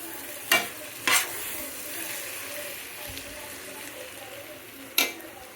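Basmati rice is stirred into a pot of spicy prawn biryani, with a few sharp scraping clacks of the spoon against the pot over a soft, steady background hiss.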